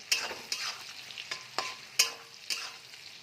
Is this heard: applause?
no